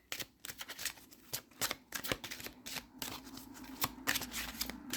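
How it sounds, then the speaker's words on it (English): Tarot cards being shuffled by hand, a quiet close series of crisp riffling flicks and soft slaps in irregular bursts, with no talking. "let's give it a little extra shuffle here"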